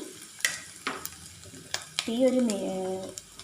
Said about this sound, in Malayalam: സവാള നന്നായി വഴന്നു വന്നിട്ടുണ്ട്